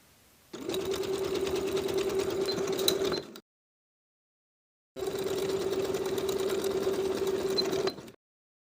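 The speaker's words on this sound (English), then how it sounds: "Sew the side seams and the shoulder seams with a 3/8 inch seam allowance and your narrow zigzag stitch" Sewing machine running a narrow zigzag stitch along swimsuit side seams, two sustained close bursts of steady rhythmic stitching separated by a pause of silence.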